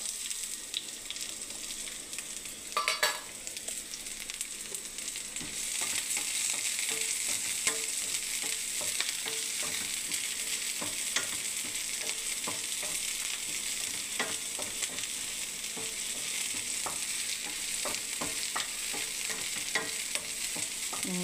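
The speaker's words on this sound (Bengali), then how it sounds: "এবার আমি এই পেঁয়াজটাকে একটু ভাজবো" Chopped onion frying in hot oil in a wok, a steady close sizzle with occasional stirring scrapes, starting quieter and rising to a constant hiss after a few seconds, with no talking.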